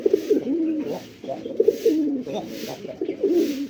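A male native Bombay pigeon coos close by in repeated deep, rolling phrases with short breaks. The calls are loud, with faint background noise.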